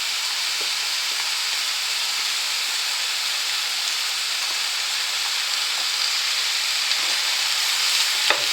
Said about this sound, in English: we're just going to cook that through now until the steak is browned